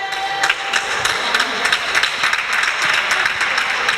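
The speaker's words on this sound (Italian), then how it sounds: "Applaudita il pubblico del Palavienna." An indoor arena audience at a women's Serie A2 basketball game claps steadily, a dense, loud patter of many hands sustained throughout.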